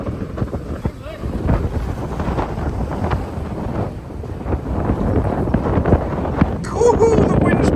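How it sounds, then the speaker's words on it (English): Strong seaside wind buffets the microphone in continuous low rumbling gusts while sea fishing at Morecambe, with people talking over it throughout. "God, this wind is so bad."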